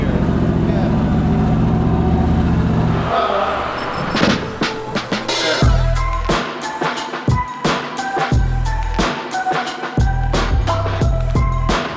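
Turbocharged LS6 V8 in a Volvo sleeper running on a dyno, starting as a steady loud drone, then breaking into choppy, stuttering bursts with sharp pops and cracks.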